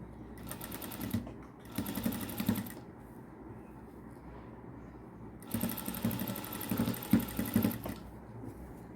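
Sewing machine stitching lace onto the edge of a dupatta, running in two long bursts of rapid rhythmic whirring with a quiet pause between.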